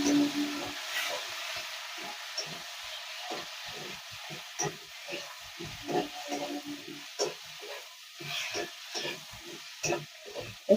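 Spices including coriander, cumin and cloves frying with tomato and garlic in a pan, a steady soft sizzle broken by repeated scraping stirs, close and fairly quiet.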